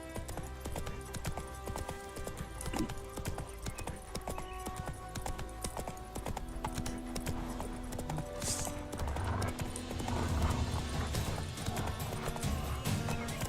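Horse hooves clip-clop steadily at a gallop in The Witcher 3 video game, with occasional neighs and whinnies over a dense music and ambient game soundtrack.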